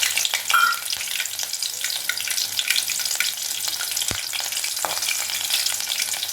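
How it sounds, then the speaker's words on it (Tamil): Slit green chillies deep-fry in hot oil while cooking a soya 65 snack, giving a steady, close bubbling sizzle with occasional crackles and pops, no voices. "இதோட ஒரு 2-3 பச்சை மிளகாவை கீந்து வச்சுருக்கேன், அதையும் பொரிச்சுட்டேன்."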